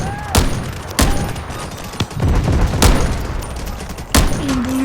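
Gunfire in a video game assault by Allied troops on an objective: several sharp, loud shots spaced irregularly over a steady battle din, with faint in-game voices.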